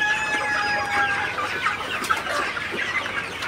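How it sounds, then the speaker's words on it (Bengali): Chickens, sonali and broiler birds, cluck busily while being fed in the late afternoon, a dense continuous flock chatter heard close, with no voices over it. "এখন হচ্ছে মুরগিকে খাবার দিয়ে দিলাম।"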